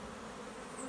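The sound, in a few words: bees buzzing around a beehive being split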